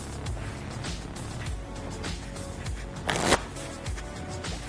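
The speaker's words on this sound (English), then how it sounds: "And then ask them to shuffle the cards." A deck of playing cards is shuffled by hand, giving a run of soft, rapid riffling clicks and flutters close by, with one louder burst of rustling partway through.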